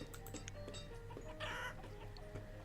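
Chickens cluck in the colonial town-building game Banished. Several short, faint clucks and bird calls are scattered over a steady hum of game ambience.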